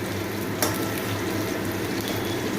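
Steady close sizzle of mutton frying in a pan for curry, continuous and fairly loud with no talking, a brief clatter of stirring near the start.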